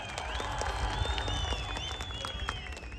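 An audience at an entertainment event in Dammam, Saudi Arabia claps together in sustained applause, a dense wash of hand claps with faint music and crowd murmur underneath.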